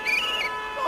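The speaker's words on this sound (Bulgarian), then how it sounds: "В момента съм гълъб и чувате какви звуци издавам." A pigeon character in a video game gives a brief warbling coo, a short tonal sound that rises and falls in under a second, clear and close.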